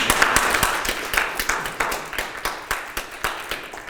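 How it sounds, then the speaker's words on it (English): A community gathering applauds Rev. Jackson, a thin, scattered crowd clapping with distinct individual claps keeping a loose, steady rhythm, moderately close and fading slightly. "please give the good Reverend another round of applause"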